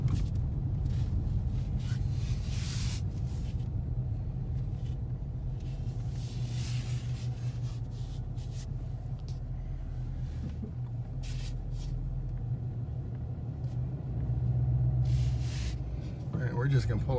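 A car fitted with an MT82 manual transmission rolls in at low speed, its engine and tyres giving a steady, close, rumbling drone with brief rustles and a swell near the end; a person talks over it.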